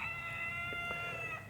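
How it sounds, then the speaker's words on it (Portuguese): Roosters and chickens close by in a rural yard, giving faint, steady clucking and calls over a constant high whine of background noise, with no one talking. "uns galos, umas galinhas aqui, eu não sei quanto que eles estão, quanto que você vai estar ouvindo no vídeo"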